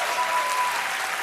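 A short, steady burst of audience applause from a studio crowd, even and continuous with no voices over it.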